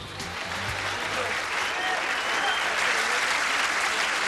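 Crowd applauding at the 1992 US Open 9 Ball Championship in Chesapeake, a steady, dense wash of clapping that holds and swells slightly throughout, with a faint voice early on.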